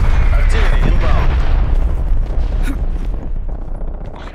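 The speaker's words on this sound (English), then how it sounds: "Artillery inbound." Artillery strike explosions in Call of Duty: Black Ops Cold War, heavy booming blasts rumbling loud and close in quick succession amid chaotic battle noise and voices.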